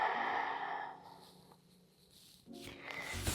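One slow, deep diaphragmatic exhale flows out audibly during a core-strength breathing exercise, close and soft. It fades to quiet before another breath begins near the end.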